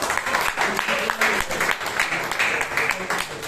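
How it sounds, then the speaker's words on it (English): Applause from the audience at a Toastmasters club meeting in Bangalore, a steady loud wash of many hands clapping that carries through the whole stretch. "So all of you deserve a huge round of applause"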